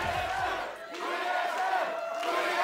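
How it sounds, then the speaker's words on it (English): A live esports arena crowd chants and roars for TSM at an NA LCS 2017 Summer match between Immortals and Team SoloMid, a loud sustained rhythmic crowd chant with a brief dip midway. "I feel like that chant will get much louder"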